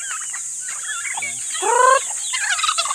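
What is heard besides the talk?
chickens and turkeys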